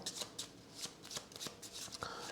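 A deck of cards for the Kinfire Chronicles board game is shuffled close up, giving a series of quick papery riffle bursts in an uneven rhythm with no talking.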